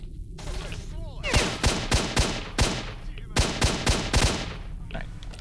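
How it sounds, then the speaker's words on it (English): Gunfire in the video game S.T.A.L.K.E.R.: Shadow of Chernobyl, a fast series of about ten sharp shots in two bursts, loud and close over a steady game background. "I'm being shot at, but fuck that guy."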